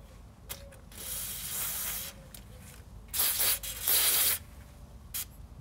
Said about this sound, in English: Spray the ones I'm taking off.